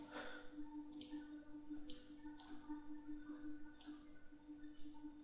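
Quiet computer mouse clicks while dragging and dropping folders on a desktop, a handful of crisp, evenly spaced clicks about a second apart over a steady low electrical hum, no talk.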